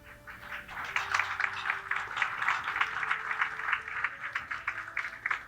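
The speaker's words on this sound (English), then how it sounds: "I didn't script an applause at that point" Audience applause at a veterans breakfast at The Flying Bridge, steady moderate clapping from a room of people, sustained and even throughout.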